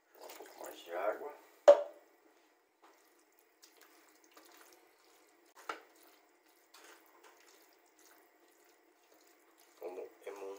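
Water pours from a tap in a short splashy run near the start of cheddar risotto cooking, with brief clatters after it. Later there are faint drips and a final trickle of liquid, and no talk over the water.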